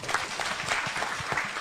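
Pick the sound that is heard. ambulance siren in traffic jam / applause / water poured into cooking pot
applause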